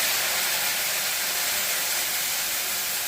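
Tomato paste hits hot mustard-seed oil in a pan, giving a loud, steady, close-up sizzling hiss that runs unbroken with no talking.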